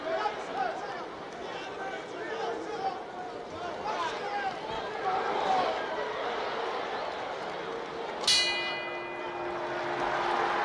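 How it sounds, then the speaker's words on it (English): A boxing bell rings once to end round six of the heavyweight bout between Muhammad Ali and Joe Frazier, a bright struck clang rising over steady crowd noise in the arena, with a commentator talking throughout. "There's a bell and the end of round 6."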